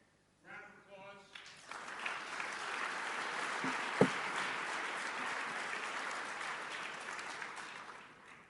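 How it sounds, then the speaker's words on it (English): Audience applause at an IoT expo presentation, a steady wash of clapping that starts after a brief voice and holds for several seconds, with one sharp knock partway through. "Round of applause."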